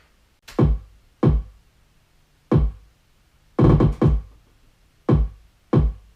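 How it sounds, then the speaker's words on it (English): A deep, punchy kick drum thumps alone in a sparse, syncopated pattern, about seven hits spaced unevenly. "Now we got to the beat, get a kick."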